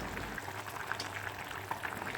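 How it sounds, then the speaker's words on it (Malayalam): Fish curry gravy soured with kudampuli bubbles at a steady, vigorous boil in a pot: a continuous close-up simmering hiss with scattered small pops, alone and without voices. "പിന്നെ കണ്ടില്ലേ തിളയ്ക്കുന്ന തിള കണ്ടില്ലേ നല്ലോണം തിളച്ച് നല്ല സൂപ്പർ കറി"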